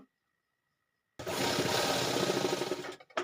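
A sewing machine runs in one loud, steady burst for just under two seconds while stitching a pleated fabric cover for a square pillow, then cuts off, with silence before and a short knock after.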